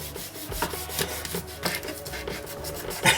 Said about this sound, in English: I'm now going to open this sausage meat here